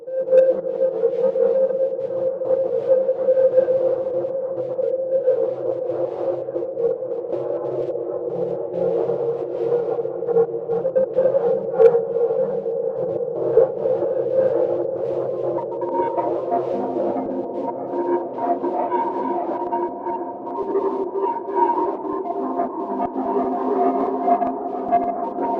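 AudioKit Super J8, a Jupiter 8-style synthesizer, holding a sustained droning tone that slowly shifts and thickens into layered pitches, steady and fairly loud with no one talking.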